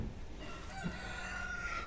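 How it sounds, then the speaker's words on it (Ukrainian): A rooster crows at a distance, faint and thin against a low background hum, with no voices nearby. "он півні співають у сусідів"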